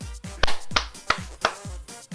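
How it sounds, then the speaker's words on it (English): Applause at a snooker evening comes as a handful of distinct, evenly spaced claps, about five sharp smacks, close and alone. "that gets a Liam Foster applause"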